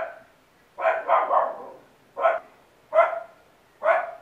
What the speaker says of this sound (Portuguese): Perdão pelo cachorro, ele não para, não pode ver uma pessoa na rua, gente, que ele tem que latir.